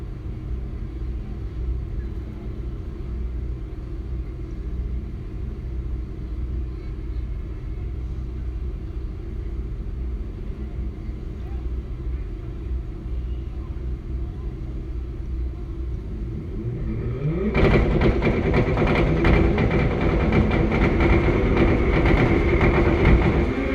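Motorcycle drag racers at a season-opening Man Cup event rumble loudly and steadily, swelling into a sudden louder roar as the bikes launch down the track.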